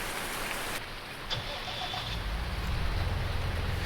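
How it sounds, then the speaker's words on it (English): A tractor engine in a farming roleplay video game, starting up and rumbling low beneath steady rain pattering on surfaces, growing louder toward the end. "the first day on the farm for this tractor, and it's a very wet day"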